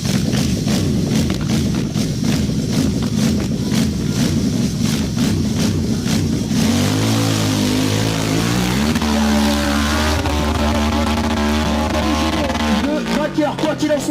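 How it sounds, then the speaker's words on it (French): A hill climb motorcycle engine revs hard as the rider fights for grip on a steep slope, a continuous loud buzzing roar that rises and falls in pitch, with a commentator-like murmur faintly beneath. "Le moteur qui tourne, il essaye de trouver un petit peu de grip"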